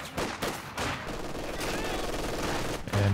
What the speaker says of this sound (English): Here comes the machine gun.